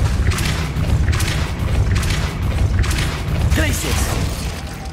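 The Depulso spell fires in the Hogwarts Legacy video game with loud booming, clattering mechanical knocks and thuds that repeat through the moment, mixed with game voices.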